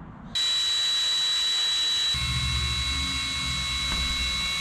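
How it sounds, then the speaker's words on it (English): A loud, steady high-pitched power drill whine starts abruptly and runs continuously, drilling into a broken-off piece on a turbocharged Subaru Forester, with a deeper motor rumble joining partway through. "We're drilling, we're getting through"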